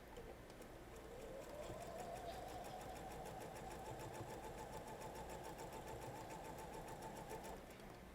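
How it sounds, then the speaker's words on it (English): A sewing machine runs steadily for several seconds, stitching quilt fabric, its rapid needle chatter even and close, starting up and stopping near the end. "I'm going to start sewing."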